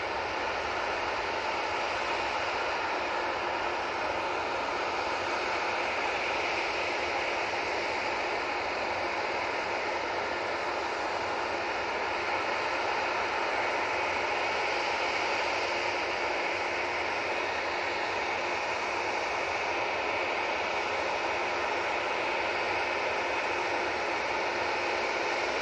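An Airbus A321neo spooling up its engines at Manchester Airport, heard as a steady, distant broadband whoosh and hiss that holds even and unbroken, with no talking over it.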